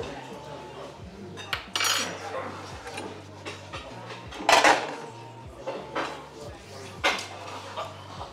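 Cutlery clinks and scrapes against a plate while the last beans on toast are eaten at a truck stop breakfast challenge, with several bright metallic clatters, a dog whimpering faintly and some background movement.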